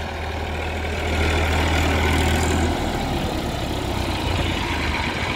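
A 2018 Massey Ferguson 245 DI tractor engine idles with a steady, deep, low rumble close by, swelling slightly louder for a moment before settling.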